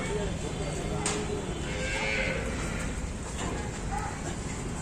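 Cows at a cow shelter in Surat being herded back from grazing into an enclosure, with occasional low moos and shuffling amid steady outdoor background noise and some human voices.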